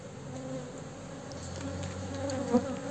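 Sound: honeybees buzzing around an open beehive

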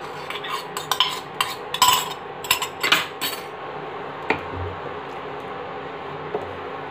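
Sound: milk and cream mixed, then poured into the vegetable dish

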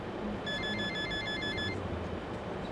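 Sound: phone ringing loudly on the bus in the video game The Bus

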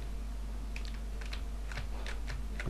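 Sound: typing on a worn computer keyboard

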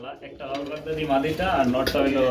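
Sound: pigeons cooing

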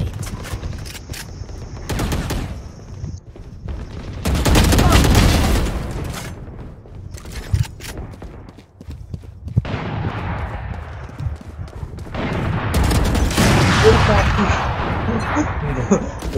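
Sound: gunfire in Valorant video game

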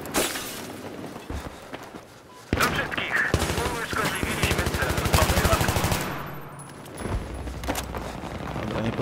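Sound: gunfire in Battlefield 3 video game

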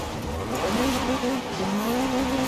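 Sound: upgraded car engine revving while drifting in video game Forza Horizon 4

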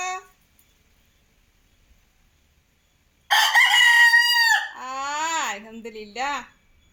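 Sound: rooster crowing

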